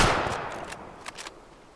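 Rifle gunshots in the hunting video game Way of the Hunter: one sharp report fading into a rolling echo, followed by a few faint clicks, fairly loud and alone.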